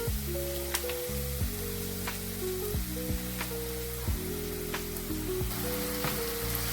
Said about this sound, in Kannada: ಸಾಸಿವೆ ಸಿಡಿದ್ಮೇಲೆ ಈರುಳ್ಳಿ ಹಾಕ್ತಿದ್ದೀನಿ. ಈರುಳ್ಳಿನ 1 ನಿಮಿಷ ಫ್ರೈ ಮಾಡಿಕೊಂಡು